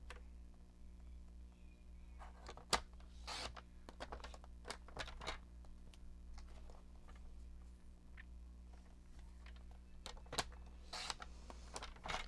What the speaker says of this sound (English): So let's cut some 1/2 inchers.